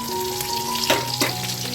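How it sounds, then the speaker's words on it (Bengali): Close, continuous sizzle of green chillies frying in hot oil, with two short crackling bursts and a faint steady hum underneath. "আর দিয়ে দিচ্ছি কাঁচা লঙ্কা একটু এটা ভাজা ভাজা হয়ে গেলে"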